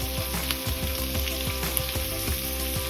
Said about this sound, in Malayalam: നമുക്ക് വഴറ്റി ചേർക്കാം